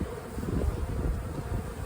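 Honey bees buzzing around a hive at feeding time, a dense, steady low drone of many wings close by, brief and unbroken, no voices.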